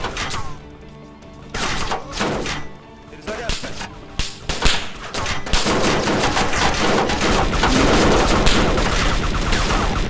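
Gunfire in the video game DayZ, first a few isolated sharp shots, then dense, sustained rapid fire that grows louder toward the end, with voices talking between the early shots.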